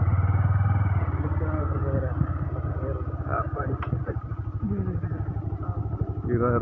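A motorcycle engine runs close by on a road in the Tamil Nadu–Kerala border area near Coimbatore, a steady low rumble throughout while people talk over it.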